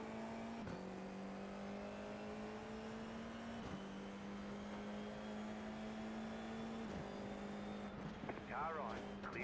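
Race car engines drone steadily at high revs in a Grand Prix racing video game at Spa, with a few gear shifts. The engine note holds loud and constant, and a faint voice comes in near the end.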